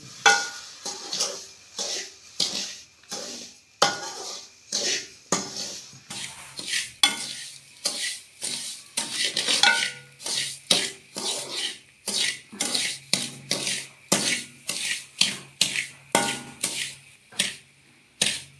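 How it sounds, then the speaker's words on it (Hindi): A spoon stirs sugar and water in a pan as it caramelizes, making continuous close scraping and clinking strokes in a fairly steady rhythm against a faint sizzle, with no talking. "इसको कैरेमल करते हैं और मुसलसल चमचा हिलाते हुए इसे कैरेमल करेंगे।"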